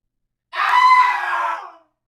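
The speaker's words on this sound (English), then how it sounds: "she screamed and fainted" An old woman's scream for an audiobook of a folk tale, a single loud, shrill cry lasting about a second and a half and standing alone against silence.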